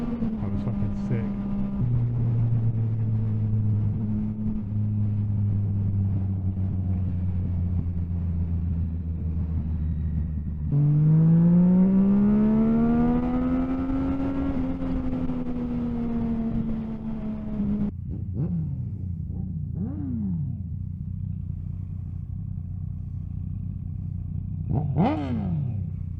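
A group ride of motorcycles including Honda CBR 1000s, a Kawasaki ZX10R and a Yamaha MT07, loud steady engine drone from a riding bike with shifting pitch, rising revs and passing bikes.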